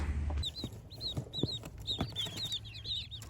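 Baby ducklings packed in a box, peeping actively in a quick series of high, bright chirps, close and fairly quiet, with occasional soft bumps and rustles from the box.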